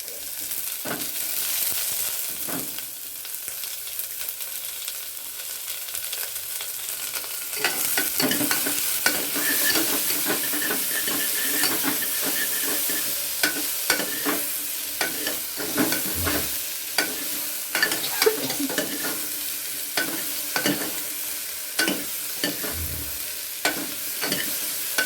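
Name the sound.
sautéing in a pan until golden brown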